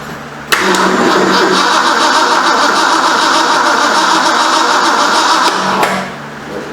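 A 1973 Ford Mach 1 Mustang engine cranks and catches abruptly, then runs loudly and steadily for several seconds before its roar eases off near the end, with no talk over it.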